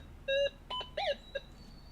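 A Gold Monster 1000 metal detector sounds a series of tones over competing gold and iron targets: a steady high beep, then several short warbling and sliding tones with one loud ringing burst, alone and close over a quiet background.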